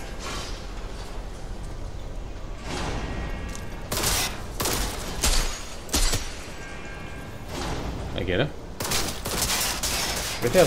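Gunfire in a Cyberpunk 2077 firefight: sharp, loud bursts of shots arrive in separate volleys, with rapid automatic strings and single cracks over steady game background noise.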